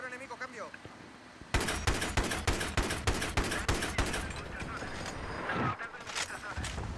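Rapid gunfire in a Battlefield 3 multiplayer match, loud dense bursts of automatic shots lasting several seconds, then a pause and more scattered firing.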